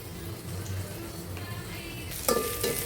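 Tempering spices and curry leaves crackle and sizzle quietly in hot oil, a soft steady frying hiss with a brief sharper burst near the end.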